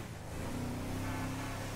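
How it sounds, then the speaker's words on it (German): Trevor's truck engine in Grand Theft Auto V, a loud, steady droning hum with a low tonal note that holds for about two seconds at an even level. "Ich höre fast gar nichts, weil der Motor so laut ist"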